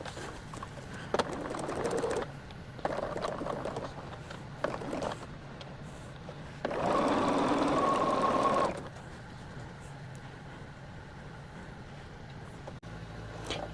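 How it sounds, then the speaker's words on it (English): A sewing machine runs in short bursts while stitching quilt strips together, one longer steady run of mechanical whirring in the middle, set against a quiet room. "We are going to be taking a 3A and a 6A and sewing them together to make them one long continuous strip"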